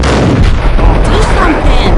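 Loud, dense gunfire in the video game Max Payne crackles continuously close up, heavy booming shots layered over one another, with a voice briefly mixed in.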